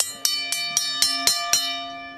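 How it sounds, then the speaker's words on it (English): A ringing bell is struck at a Duke Blue Devils football spring practice: seven loud, evenly spaced strikes about a quarter second apart, each leaving a bright metallic tone that hangs and decays, heard alone. "I think we're ready to ring the bell."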